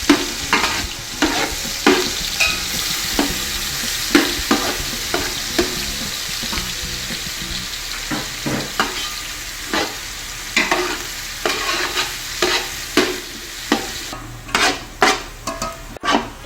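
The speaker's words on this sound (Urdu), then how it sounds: "اور پیاز جو ہے ان کو بہت ہلکا فرائی کرنا ہے" Onions lightly fried in a pan for Kabuli pulao give a continuous close sizzle, with repeated clattering strokes of a spoon stirring against the pan, growing sharper and more frequent toward the end.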